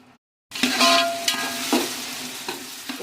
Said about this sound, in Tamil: தக்காளி நல்லா குழஞ்சி வதங்கிறதுக்காக கொஞ்சமாக சால்ட்டு சேர்த்து வதக்கி வைப்போம்